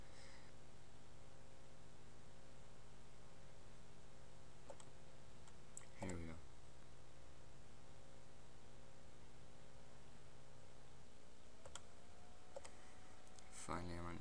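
A computer mouse clicks to start a software download on a PC, a few sharp isolated clicks standing out over a steady electronic hum and background noise.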